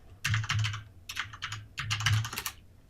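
Fingers type a book title on a computer keyboard in three quick bursts of close, crisp key clicks separated by short pauses.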